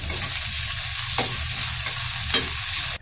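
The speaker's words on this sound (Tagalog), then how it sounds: "Sunod naman itong sibuyas ang igisa natin." Onion sautéed in oil in a pan after garlic, a loud steady sizzle close by with a low rumble beneath and a few sharp utensil scrapes, no voices.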